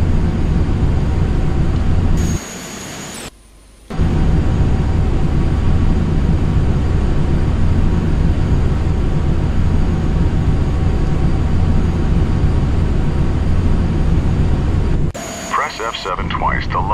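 A jet airliner's engines in Flight Simulator X drone loudly and steadily during a slow approach to land at Glasgow airport, a constant roar with two brief dropouts while someone speaks over it.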